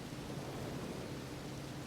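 Steady rain falls at a bridge in the video game Across the Fog, a soft, constant hiss of downpour with no breaks, faint and even throughout.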